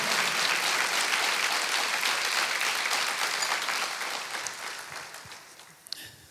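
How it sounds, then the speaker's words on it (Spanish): A church congregation applauds during a worship service, a dense steady wash of many hands that holds strong for several seconds and then fades off gradually toward the end. "démosle un aplauso al Señor con todo tu corazón."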